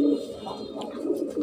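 A pair of Uman pigeons coos in soft, low, repeated calls close by, with a voice talking over them in places.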